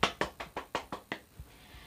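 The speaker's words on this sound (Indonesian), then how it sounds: "Ya, tepuk tangan untuk kita semua." Seven sharp, evenly spaced claps ring out close and quiet in an elementary classroom, fading into a faint final tap and room hush.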